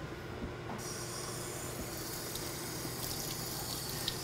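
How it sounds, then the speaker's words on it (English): Tap water runs steadily over fresh red raspberries in a kitchen, a continuous close hiss and splash of flowing water lasting the whole stretch with no pauses. "We'll rinse them and wash."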